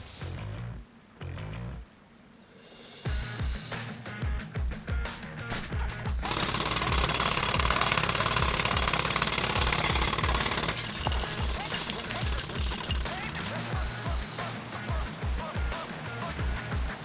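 Jackhammer drilling a hole in the TMNT Mutants Unleashed video game, a loud, close, rapid pounding that runs continuously for many seconds after a brief start, with game sounds underneath.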